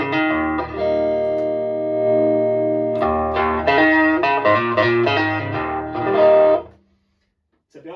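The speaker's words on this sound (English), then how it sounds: "that's the sound the Line 6 Spider's making without any effects added in" A clean electric guitar played through a Line 6 Spider IV amp with no effects rings out in sustained chords and a brisker run of notes, then cuts to silence.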